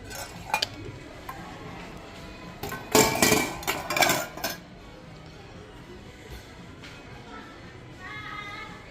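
Plastic plate, dish and cup being handled while shopping for budget camping gear, scattered light clacks and a dense cluster of clattering knocks, close by, with a voice talking at times.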